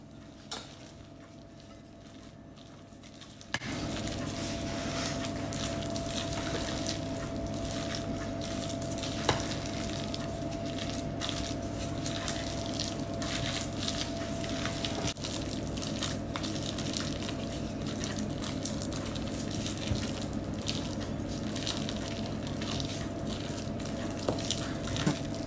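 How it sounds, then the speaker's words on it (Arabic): Carrot cake batter with crushed nuts, raisins and grated carrot being stirred with a spatula, giving a steady wet, squishy scraping that runs continuously and fairly close, with no talking. "Je vais mélanger tout ça avec une spatule."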